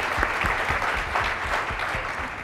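A keynote crowd at a Java community event gives Rich Bear a big round of applause: sustained, loud, even clapping from many hands throughout, without speech on top.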